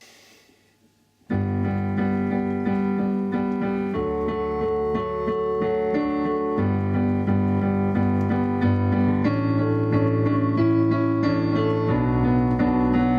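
Section 5 of a song played on solo piano, entering after a short quiet lead-in with a series of full sustained chords that change every couple of seconds, close and loud.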